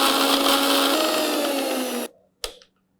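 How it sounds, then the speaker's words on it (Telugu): A kitchen mixer grinder blends garlic into a paste, roaring loudly and steadily for about two seconds before cutting off, then giving one short final burst. "సో మనం ఇప్పుడు దీన్ని కొంచెం మిక్సీ చేద్దాం."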